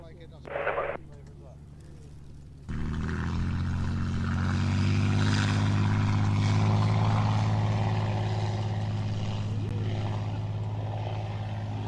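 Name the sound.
Nimrod aircraft departing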